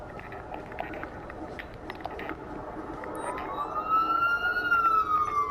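In a police video game, an ambulance siren rises out of a steady low rumble of traffic in the second half. Its wailing tone swells gradually from faint to moderately loud.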